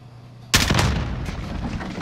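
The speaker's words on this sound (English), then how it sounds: "Maybe they nerfed the shotgun." A loud shotgun blast from a video game bursts in abruptly after a quiet moment, followed by a booming, rumbling tail that lingers to the end.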